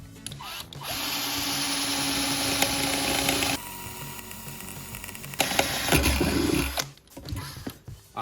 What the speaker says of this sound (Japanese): 一応ドリルドライバーなんで穴開け等もできると思うんでやってみましょうか